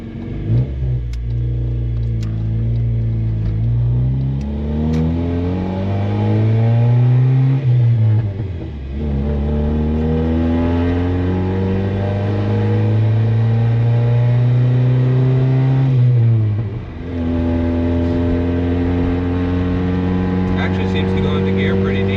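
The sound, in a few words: 1999 Honda Civic with swapped 5-speed manual accelerating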